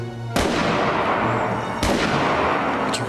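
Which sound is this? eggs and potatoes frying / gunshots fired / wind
gunshots fired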